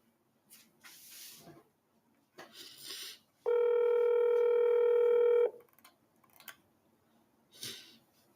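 A telephone dialing tone sounds during a live call-in show, one steady two-second beep standing out clearly between short bursts of hiss and clicks, with no talk over it.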